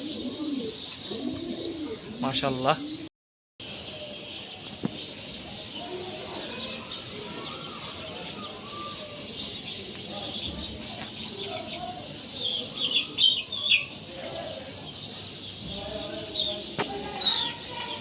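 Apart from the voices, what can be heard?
pet pigeons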